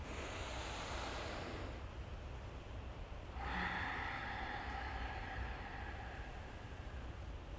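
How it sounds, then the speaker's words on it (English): Slow, steady breathing in and out through the nose during a yoga exercise for golfers, a long rushing airflow that shifts to a brighter, stronger exhale partway through, close and continuous, with no talking. "Inhaling, exhaling through the nose."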